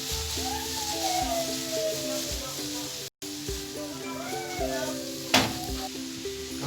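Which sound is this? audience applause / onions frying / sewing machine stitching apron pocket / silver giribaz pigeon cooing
onions frying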